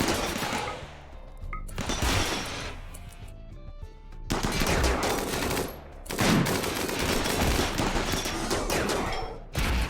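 Bursts of rapid automatic turret fire in RimWorld, long crackling volleys broken by short pauses, loud and dense, with no talking.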